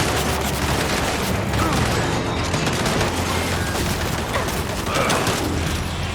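Dense, continuous turret and rifle gunfire from the video game Gears 5, steady, rapid and loud across the whole stretch, with bursts layered over a constant roar and a voice talking faintly beneath.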